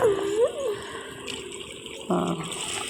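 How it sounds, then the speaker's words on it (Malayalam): Water pours into a pan of gravy on the stove in a short gushing burst near the end, after a faint murmur and kitchen hum. "ഇനി കുറച്ച് വെള്ളം കൂടെ ഒക്കെ ഒഴിച്ച് തിളച്ച് കഴിയുമ്പോൾ"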